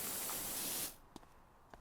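A power washer sprays water in PowerWash Simulator, a loud steady hiss that cuts off abruptly partway through, followed by near-silence with a couple of faint clicks.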